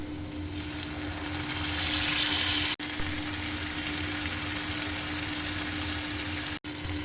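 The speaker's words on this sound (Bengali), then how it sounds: "পেঁয়াজ ভাজা হয়ে গেছে, আমি সমস্ত মশলাগুলো এক এক করে দিয়ে দেব।" Onions frying in hot oil in a home kitchen before spices go in for a Bengali potato and soybean curry: a steady, close sizzling hiss, briefly louder midway, with two sharp momentary dropouts.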